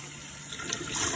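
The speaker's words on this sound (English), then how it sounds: "And then we're going to add our water." Water poured from a measuring cup onto washed rice for Jamaican curry chicken, a brief soft gushing splash that swells slightly as it lands, with no speech.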